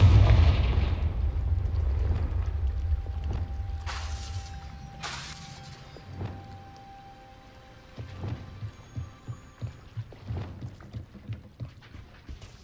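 Confringo fire-spell blasts in Hogwarts Legacy land as several booming explosions spaced a second or so apart. A quicker run of rhythmic thuds and pops follows, all set over a low rumbling game soundscape.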